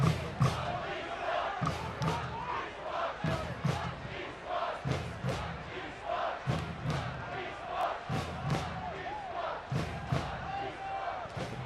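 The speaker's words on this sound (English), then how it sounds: "The crowd chanting East Wash" A soccer crowd at a Forward Madison FC match against South Georgia Tormenta FC chants in rhythmic surges, the loud rolling mass of voices filling the stadium with repeated bursts and a commentator talking over it.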